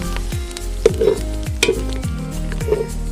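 Garlic frying in a pan with already cooked meat, a steady loud sizzle under repeated scraping and stirring strokes of a utensil against the pan, with light clinks, close and without talk.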